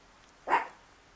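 A single short dog bark sounds once, moderately close, against a quiet room with no talking.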